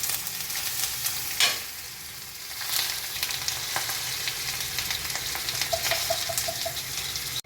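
Ridge gourd and red chillies are stirred in a hot pan, with a steady close sizzle and frying hiss, occasional scraping stirs and a faint clink of utensils.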